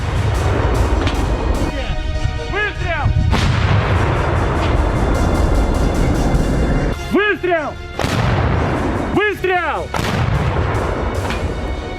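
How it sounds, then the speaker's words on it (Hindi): A Russian artillery brigade firing shells in a counterattack near Kursk, with several heavy booming reports rolling out over continuous loud battlefield noise, while a voice speaks over the din. "रूस की आर्टिलरी ब्रिगेड जवाबी कार्रवाई करते हुए गोलों की बरसात कर रही है"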